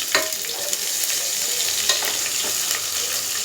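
Onion fries in a pan for tomato masala rice, a steady close hiss of sizzling oil broken by occasional clicks of a stirring spoon.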